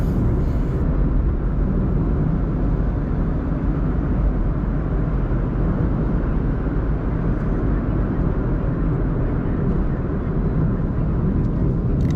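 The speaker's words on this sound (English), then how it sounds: "I'm taking these bends very easily and the car stays flat through the corners." A 2016 Alto, a Japanese small car, cruises along winding roads in Galle, its steady engine and road noise droning close and continuous throughout without a break.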